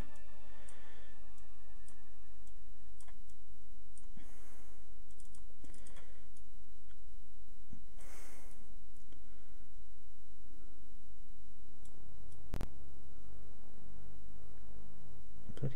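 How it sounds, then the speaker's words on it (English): A computer sound card ticks and clicks repeatedly while the game Ultima VIII: Pagan plays, irregular sharp clicks and taps over a faint steady hum, with a louder knock late on. "Sound card clicking away."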